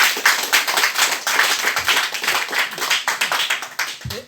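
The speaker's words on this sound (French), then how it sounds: "Acclamez ça." Audience applause and clapping at a gathering in Gadago, a dense, steady crackle of many hands lasting throughout, fairly close and loud, with no talking over it.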